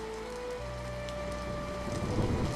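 Steady rain falls as a constant even hiss, swelling a little toward the end, with a faint low tone underneath and no voices.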